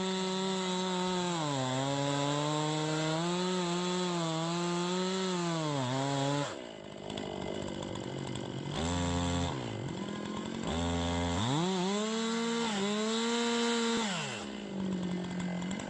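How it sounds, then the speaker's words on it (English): A chainsaw cuts through a large tree during heavy felling work. The engine sounds close and loud throughout, holding a steady high whine that dips and rises as the chain bites into the wood and briefly eases off. "the process of cutting down large trees with a chainsaw"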